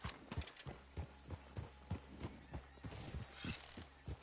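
Steady clip-clop of horse hooves trotting at a regular pace, close by, with a horse whinnying partway through, in the video game Red Dead Redemption 2.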